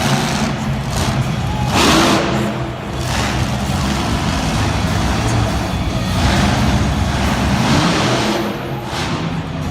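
A monster truck engine revs hard and loud during a donut at a Monster Jam event in Lincoln, Nebraska, with pulsing bursts of power and crowd-like background noise.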